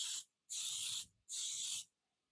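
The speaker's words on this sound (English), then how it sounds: "We're going to spray them down so they come out easily." Cooking spray misted onto mini loaf pans in three quick, close hissing bursts, the first short and the next two longer, with brief silences between and no talk.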